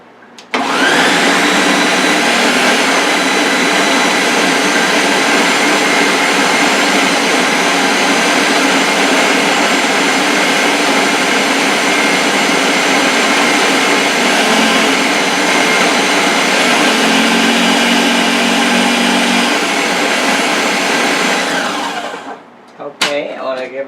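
A countertop blender mixing food, running as a loud, continuous high-pitched whir for about twenty seconds before stopping abruptly, with a brief clatter at the end.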